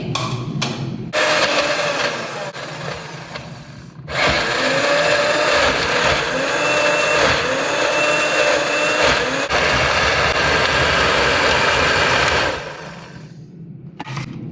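A mixer grinder blending tomato and chili chutney whirs loudly and steadily for several seconds, starting and stopping in short bursts with a grinding, high-pitched motor roar.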